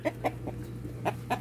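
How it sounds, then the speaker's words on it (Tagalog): Chickens cluck in short, separate bursts, about five in quick succession, over a steady low hum. "patuka dito sa ating mga alagang manok na nag-aantay"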